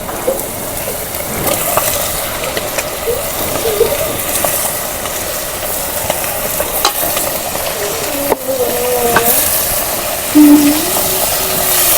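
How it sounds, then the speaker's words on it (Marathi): Chicken curry pieces frying and sizzling in hot masala of fried chutney, cooked on a wood-fired clay stove, with a steady close hiss, scraping stirs and a brief louder crackle near the end. "चला भाजी टाकून घेऊया आपण"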